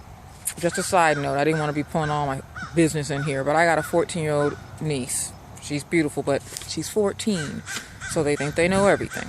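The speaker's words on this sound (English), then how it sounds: "sorry about the birds" Crows caw outdoors in loud, harsh bursts, repeated again and again over a person talking close by.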